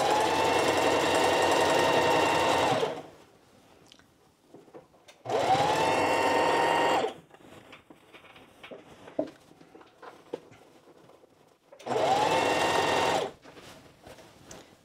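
A home sewing machine stitches a sheath dress seam in three steady runs of a few seconds each, loud and close, separated by pauses filled with quiet handling noises.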